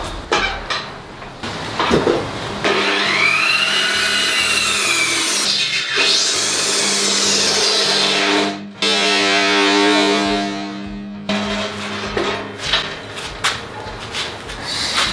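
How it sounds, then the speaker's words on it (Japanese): A power saw whines through wood in a home garage, making one long diagonal cut for a car ramp, loud and steady for several seconds before spinning down. "斜めに一発で切りましたね"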